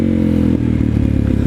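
Motorcycle engine pulling hard in second gear under throttle, a loud, close, rough low rumble with a brief dip partway through, then steady throbbing power.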